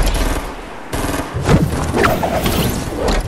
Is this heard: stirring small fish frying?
no